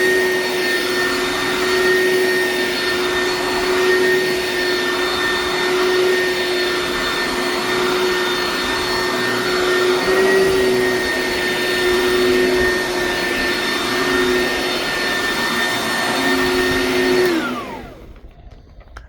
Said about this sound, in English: So it's an old Oric, so it's loud, but it does the trick.